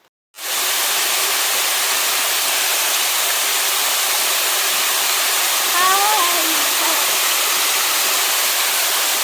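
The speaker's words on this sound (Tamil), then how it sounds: "தண்ணி வந்து பார்த்திங்கன்னா கம்மியாக தான் வந்து போகுது" A mountain waterfall on a misty trek to a 6,600 ft viewpoint roars in a steady, loud, unbroken wash of water that begins abruptly and continues throughout, with a faint voice briefly heard midway.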